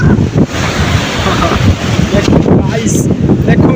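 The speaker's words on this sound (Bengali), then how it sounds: "দেখুন দেখুন সমুদ্রে ঢেউ দিতেছে কি সুন্দর" Sea waves break on the shore at Kuakata beach in Bangladesh, a loud, continuous surging roar. Strong wind buffets the microphone, and faint voices may sit underneath.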